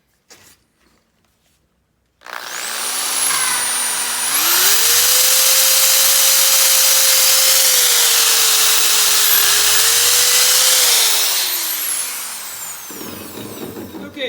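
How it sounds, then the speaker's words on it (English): A wooden knife handle for a forged Ancient Greek kopis being shaped with a powered sander, a loud continuous whine that starts abruptly, rises in pitch, holds steady for about ten seconds, then winds down. "and then sand my handle to shape"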